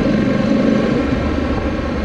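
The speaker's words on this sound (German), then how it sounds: "Maximalmotorbremse." Honda Africa Twin CRF 1100 motorcycle under maximum engine braking, a loud steady engine drone with wind rush throughout, close and continuous.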